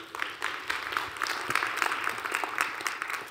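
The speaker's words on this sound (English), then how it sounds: "Give the Lord a hand clap tonight." A church congregation claps together during an evening service, steady moderately distant hand clapping with individual claps audible in a loose rhythm throughout.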